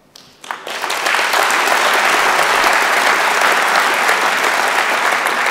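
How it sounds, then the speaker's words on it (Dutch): Loud, dense audience applause following a speech at a political party congress, swelling up within the first second and holding as a full, sustained roar of clapping. "APPLAUS"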